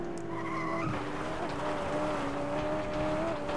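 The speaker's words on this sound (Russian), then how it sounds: "Блин, вот эта Веном машина очень хорошая" Venom car racing in FlatOut 2, a steady, droning engine note that rises and shifts gear, joined by tire squeal and skidding, with a voice talking over it.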